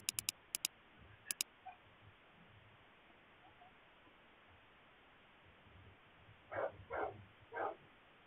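A dog barks three times in quick succession near the end, moderately loud and somewhat distant, after a few sharp clicks at the start against a quiet background.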